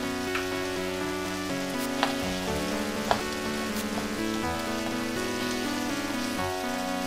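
Kobe beef stir fry with teriyaki frying in an oiled skillet, a dense continuous sizzle and crackle with occasional sharper pops, steady and close, under a constant tonal hum.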